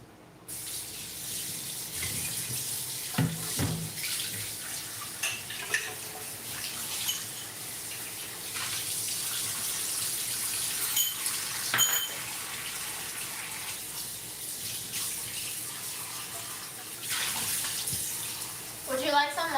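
New York City tap water runs from a faucet in a steady close gush, with brief clatters and a voice talking in the background at points.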